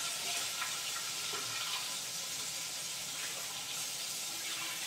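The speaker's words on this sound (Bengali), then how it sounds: "খুব মাছের মুড়োটা করে ভাজতে হবে" A fish head fries in a pan with a steady, soft sizzle and crackle of hot oil, low and continuous throughout with no voices.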